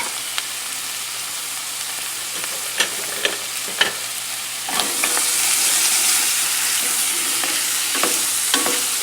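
Onions, celery and fresh garlic sweating in a pot give a steady soft sizzle and hiss, with a few sharp clicks of a utensil stirring against the pot, the sizzle swelling slightly midway.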